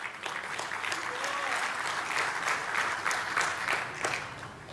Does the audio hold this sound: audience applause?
yes